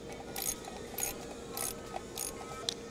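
A torque wrench tightens bolts on a DV6 engine, a series of rapid ratchet clicks in four evenly spaced bursts, close and clear over faint background noise.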